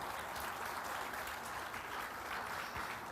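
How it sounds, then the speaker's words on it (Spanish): A church congregation applauds during a Sunday morning service, a steady wash of many hands clapping at moderate distance, fairly quiet and continuous without speech. "Vamos a dar un aplauso a nuestro Padre Celestial esta mañana"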